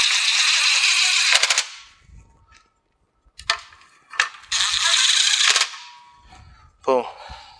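A power tool drives in the top bolts of a 2015 Acura TLX front bumper cover in loud, close rattling bursts of a second or so, separated by quiet gaps with faint handling noises and a short whirring at the end.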